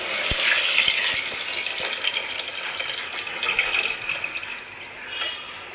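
Water streams and splashes steadily into a cooking pot of rice for vegetable biryani, with a few light metallic taps near the start, continuing without talk.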